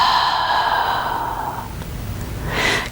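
A long, breathy sigh comes from a person exhaling during a chair yoga session. It is close and soft and fades over about a second and a half, and a fresh breath starts near the end.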